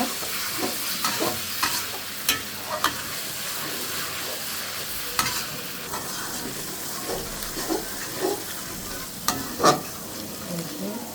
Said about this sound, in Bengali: আদা রসুন আর পেঁয়াজ বাটাটা ভালো করে একটু ভেজে নেব